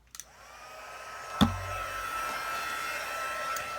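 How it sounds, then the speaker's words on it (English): An electric heat tool blows steadily over stamped holiday tags to melt embossing powder, a continuous close whooshing hum that starts with a click and runs unbroken without talk. "I'm going to heat emboss the embossing powder"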